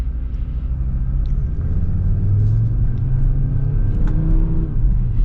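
A 2023 Audi RS3's five-cylinder engine rumbles and revs from inside the cabin, a deep steady drone rising slightly as it accelerates, with no voices.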